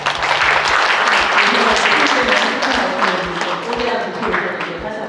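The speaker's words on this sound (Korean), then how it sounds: "다시 한번 큰 박수 부탁드립니다." Audience applause at the opening ceremony of the Busan Art Association's 80th anniversary exhibition, a dense, steady wash of clapping that holds for several seconds under a low, regular thumping.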